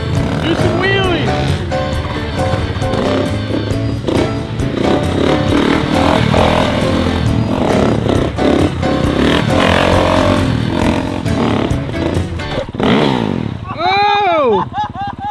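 A Honda CRF 450R dirt bike converted into a three-wheeler revs hard with rising and falling engine sweeps while doing wheelies, loud and close, with a sharp rev burst near the end and some talk.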